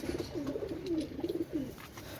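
Pakistani teddy pigeons coo in a pair, soft rolling throaty calls repeating in quick bursts close by, with no talk over them.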